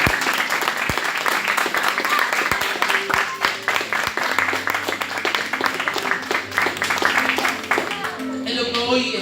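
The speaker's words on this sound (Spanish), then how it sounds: "Dale un aplauso grande al Señor." Church congregation applauding during a Sunday worship service, a dense, lively clapping with sharp individual claps standing out, continuing for several seconds while a voice carries on over it.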